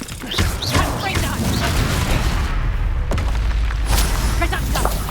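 A Confringo fire spell goes off in Hogwarts Legacy with loud booming blasts and crackling combat effects, and a voice speaks over the game action.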